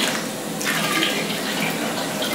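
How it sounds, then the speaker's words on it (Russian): Cold water pours steadily into a vessel while making single-malt whisky at home, a continuous close splashing stream with no voices. "Маленько воды добавлю холодной"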